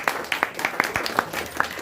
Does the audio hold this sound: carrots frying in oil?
no